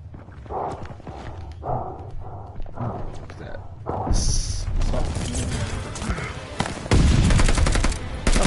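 A flashbang goes off in Call of Duty: Vanguard. A muffled thump is followed by a high ringing whine and loud, dense gunfire, and a voice talks over the action.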